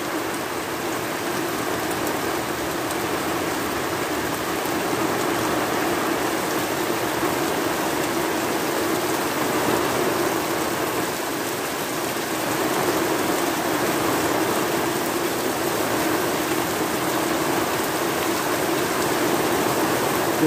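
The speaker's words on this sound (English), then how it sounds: "get pouring rain" Heavy rain from a thunderstorm pours down steadily and loudly, a dense continuous hiss of water with no breaks.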